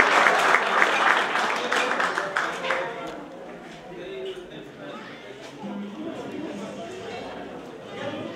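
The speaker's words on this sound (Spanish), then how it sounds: "Un aplauso para ella." A crowd at a rodeo federation awards ceremony claps for the queen, a brisk burst of applause that fades after a few seconds into murmuring chatter and a voice speaking.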